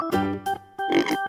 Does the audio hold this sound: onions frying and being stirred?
no